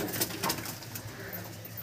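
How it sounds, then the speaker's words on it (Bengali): Male pigeons at a pigeon sale coo softly in a brief close-up moment, a low steady murmur with a faint higher bird note. "সব নর পায়রা।"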